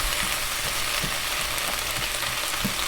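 Shrimp and sausage sizzle steadily in a hot stir-fry pan, with a loud continuous crackle and occasional scrapes and stirring knocks throughout.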